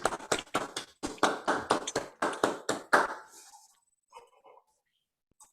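Seminar participants on a video call clap together after a count of three, a ragged burst of about ten compressed, close claps over roughly three seconds that stops abruptly, leaving faint scattered clicks.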